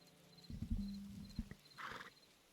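A horse in the video game Hytale gives a few clip-clop hoof taps followed by a short, bright whinny, heard close and alone against quiet game ambience.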